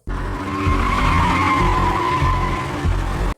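A car accelerates hard with loud, continuous tire squeal and engine roar, close and sustained for a few seconds without speech.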